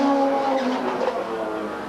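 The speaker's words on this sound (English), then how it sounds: "the Merkur race car is a sweet-sounding machine" A Merkur race car in the 1986 SCCA Trans Am at St. Petersburg screams past at speed, a loud, sustained engine note with steady harmonics, fading slightly as it moves away.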